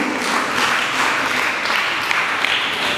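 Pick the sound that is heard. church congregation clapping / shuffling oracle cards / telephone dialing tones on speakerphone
church congregation clapping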